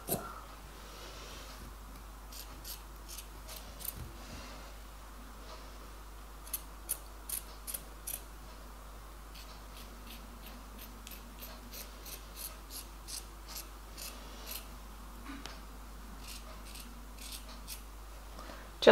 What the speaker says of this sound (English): I'm just gonna start by cutting the first oval.